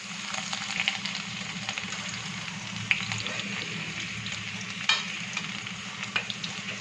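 Chopped garlic frying in oil left over from frying chicken for chilli chicken, a steady close sizzle with occasional stirring scrapes and small pops throughout.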